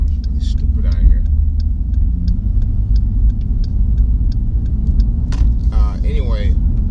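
A car on a road, heard from inside another vehicle as a loud, steady low engine and road rumble with faint rhythmic ticking, while someone talks over it.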